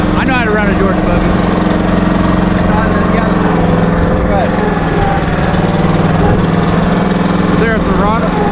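A concrete buggy's small engine runs steadily at idle, a constant low drone throughout with people talking over it.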